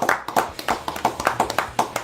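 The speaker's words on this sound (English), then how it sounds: "Give her a big round of applause." Applause for a co-host winner at a live show, a quick run of fairly close hand claps with an uneven patter and no voices over it, over in about two seconds.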